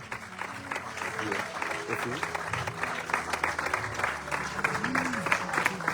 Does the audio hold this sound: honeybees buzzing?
no